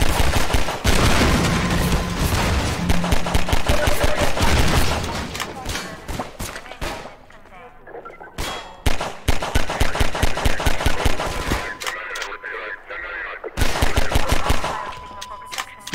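Enemy gunfire in Half-Life 2 comes as rapid automatic bursts and single shots, loud and close, with brief lulls before volleys resume, over faint game ambience.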